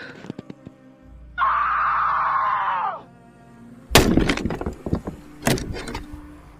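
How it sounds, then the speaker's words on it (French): A woman's scream, sustained for about a second and a half in a French TV drama, followed by thuds and loud struggling impacts, with groaning in between. "j'ai entendu les cris"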